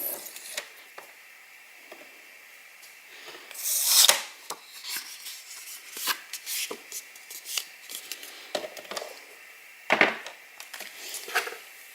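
A paper card about 14.85 by 21 cm is folded at its centre and creased flat, giving soft rubbing, rasping strokes and a few sharper crisp pulls, near and quiet with no talk.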